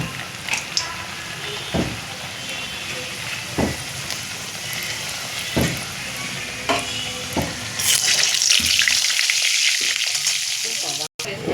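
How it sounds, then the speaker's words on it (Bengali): Rolled dough sizzles and bubbles steadily in hot oil, with occasional scraping and stirring clicks, close by and alone, the frying growing louder near the end. "এবার আমি এটা তেলে দিয়ে দিই।"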